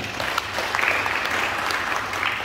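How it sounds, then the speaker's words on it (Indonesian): Audience applause at a religious talk, a dense steady wash of many hands clapping together, loud and continuous throughout with no voices. "Tepuk tangan buat Tuhan."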